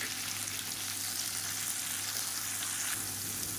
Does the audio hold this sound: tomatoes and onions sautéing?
yes